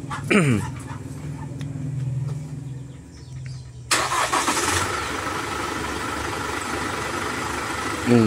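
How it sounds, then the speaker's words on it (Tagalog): A dog whimpers briefly, then a motorcycle engine fitted with an anti-vibration balancer shaft chain suddenly bursts to life and keeps running with a steady, loud, rattling idle. "papakinggan natin ang kanyang andar ng makina before and after. Sige, paandarin mo kuya."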